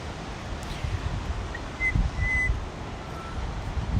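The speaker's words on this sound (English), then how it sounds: "That's the butcher bird." A few clear, thin whistled notes of a butcherbird ring out faintly over outdoor background rustle on the Australian coast at sunrise, spaced apart in a short melodic call.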